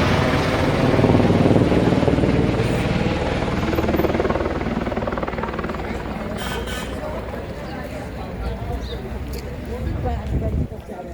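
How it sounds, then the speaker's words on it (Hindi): A loud helicopter rotor drones steadily nearby at the Katra helipad, a dense throbbing roar that fades slightly toward the end as it comes down to land. "और ये दूसरा हेलीकॉप्टर लैंडिंग करने के लिए।"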